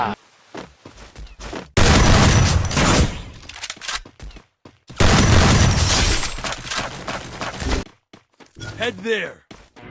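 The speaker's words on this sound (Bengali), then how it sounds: "পিস্তলে কত গুলি আছে চালাও চালা গুলি" Pistol gunfire in the video game Free Fire: dense bursts of rapid shots in two long volleys plus scattered single cracks, loud and close, with people talking in between.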